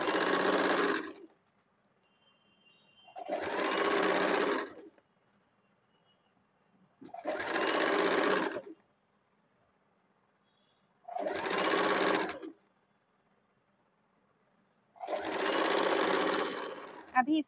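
A sewing machine stitches a saree border onto a kurti sleeve in five short, loud bursts of rapid whirring, evenly spaced, each separated by a few seconds of near silence.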